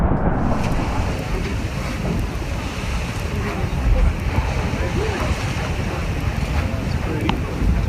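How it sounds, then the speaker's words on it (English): A strong gust of wind roars across an open outdoor scene, a loud continuous rush that buffets the microphone throughout. "this strong gust of wind passed right through them"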